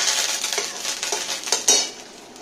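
Onion, green chilli and spring onion stir-fry over cumin seeds in a pan with a close, steady sizzle. Repeated scraping strokes of a utensil and a sharp metallic clink near the end sound through it.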